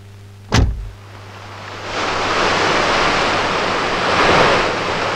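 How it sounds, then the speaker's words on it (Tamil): Sea waves wash onto a beach in a continuous broad hiss and rumble that swells louder after a sharp thump near the start, with no voices over the surf. "இங்க கடல் அலைங்க மட்டும்தான் இருக்கு"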